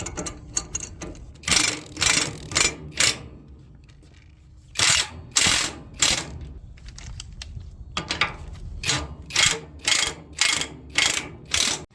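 A ratchet being cranked to tighten down an air safe hitch on a Ram 3500 pickup, heard as bursts of rapid clicking strokes separated by short pauses, loud and close with no talking.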